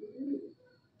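A low, throaty coo from a Madrasi pigeon, one rounded burst up close that fades quickly into quiet, with no voices.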